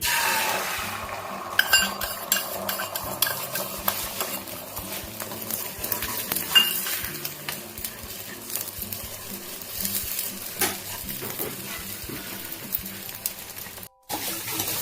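Beaten eggs with salt are fried into a scrambled bhujia in white oil in a frying pan, a soft sizzle under repeated scraping and clinking of a spatula stirring, fairly close and steady.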